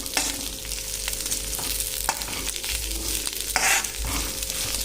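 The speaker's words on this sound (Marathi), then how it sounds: "हे पूर्णपणे लोखंडाची कढई, शक्यतो लोखंडी भांड्यातच हा लसूण फ्राय केला जातो" Garlic fries in an iron kadhai with a constant close sizzle, while a spoon stirs and taps against the metal now and then, including one louder scrape near the end.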